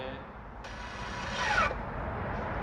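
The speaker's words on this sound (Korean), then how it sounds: "EPB 파킹 브레이크가 작동하나 안 되나" A Hyundai Grandeur's electronic parking brake caliper motor engages with a brief high whirring buzz of about a second, rising and cutting off abruptly, close up over a low background hum.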